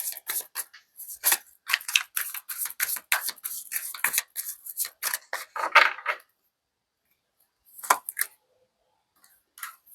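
Tarot cards shuffled by hand in quick riffling bursts, crisp and close, a dense run of flutters followed by a pause and a few final slaps of the deck.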